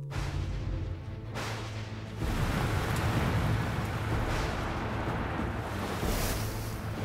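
Steady heavy rain hisses with a deep, rumbling roll of thunder that swells partway through, as a film sound effect of a destructive storm, with no voices.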